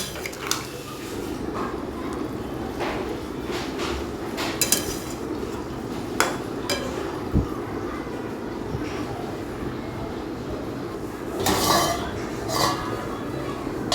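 A spoon stirs sugar into a pot of water, giving a few sparse metallic clinks and scrapes over a steady low background rumble.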